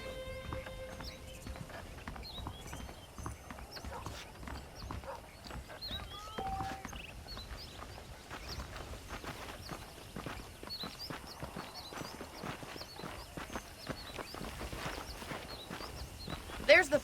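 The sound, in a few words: horses walking, clip-clop, in Red Dead Redemption video game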